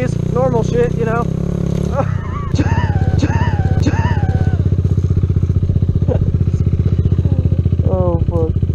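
A Honda Z125 motorcycle rides through trees, its engine a loud, close, steady buzzing drone with a brief dip and rev change, while someone talks over it.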